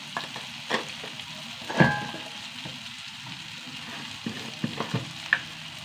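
Spice powders, turmeric, chili, coriander and asafoetida, sizzle in hot oil in a pan as they are sautéed for a Kerala dish, giving steady soft frying hiss with occasional stirring scrapes and clinks.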